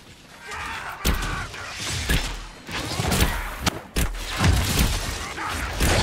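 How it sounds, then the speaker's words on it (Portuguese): Bow shots in the video game Dragon Age: Inquisition land as a series of sharp, punchy twangs and impacts, roughly one every second. Creaky mechanical game sounds and low thuds run between them. "O barulhinho da flecha é tão satisfatório."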